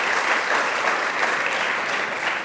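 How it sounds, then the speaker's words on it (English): Audience applause at a public government announcement on Long Island: dense, steady clapping from a sizable crowd fills the whole stretch at even loudness, with no voices over it. "Let's give him a round of applause"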